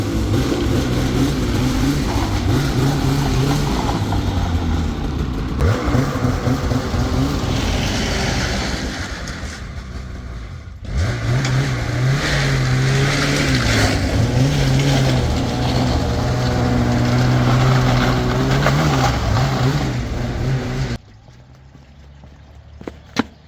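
A 2022 Polaris 850 Khaos Matryx Slash snowmobile with an aftermarket finger throttle idles while warming up, a loud steady engine drone with slight shifts in pitch, then a sudden drop to near quiet at the end.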